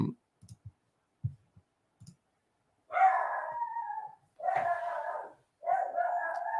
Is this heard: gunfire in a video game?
no